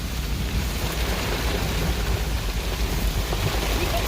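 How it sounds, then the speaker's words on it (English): Steady rain pours over Cades Cove near Townsend, Tennessee, a dense, even hiss of drops on surfaces that holds at the same level throughout, with no voices. "A rainy day at Cades Cove beats a dry day at work"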